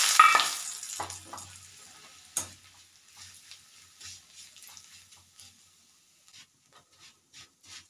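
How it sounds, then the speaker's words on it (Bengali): Flattened rice (chira) frying in oil after papad pieces, a soft sizzle with a sharp burst near the start and another at about two seconds, then quieter, scattered crackles and stirring. "এবারে চিড়েগুলো ভেজে নিচ্ছি"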